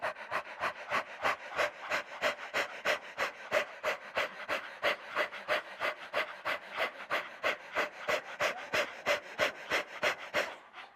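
A person performs Kukriya pranayama, a yoga breathing exercise imitating a dog's panting. Rapid, evenly spaced puffs of breath sound close up, about three per second, continuing steadily for the whole stretch with no talking.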